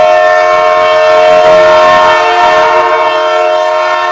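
A Visakhapatnam to Kakinada MEMU passenger train sounds a long, loud, steady horn blast close by, held for several seconds over rumbling rail noise.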